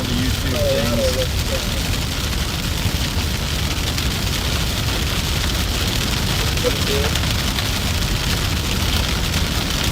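Rain pours steadily on a car driving through a Kansas storm, a dense, loud, constant hiss with road rumble underneath and a couple of faint voice fragments.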